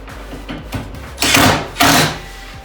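A screw driven into the wood of a cheap portable workbench: two loud broadband bursts of a driver spinning it in, each about half a second, preceded by faint clicks and handling taps.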